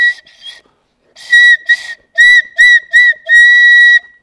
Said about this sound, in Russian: Вот я вырезаю такой свисток.